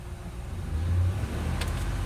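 A car engine idles steadily after its throttle body and mass airflow sensor were cleaned, a smooth low hum with a slight swell midway and a faint brief whir near the end.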